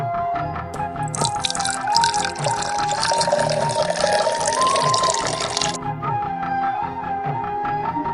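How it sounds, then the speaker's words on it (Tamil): Water runs steadily into a pot for washing clothes, a continuous splashing stream that cuts off partway through over a busy, noisy household background. "இன்னும் ஒரு குடம் தான் பாக்கி. தண்ணிய புடிச்சிட்டு துவைச்சிடுறேன்."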